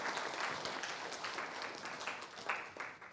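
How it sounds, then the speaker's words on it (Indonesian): Applause fills the hall for master's accounting graduates at a university graduation ceremony, a steady patter of many hands that swells and dips briefly before tapering off, fairly faint and distant. "Tepuk tangan dong buat wisudawan wisudawati."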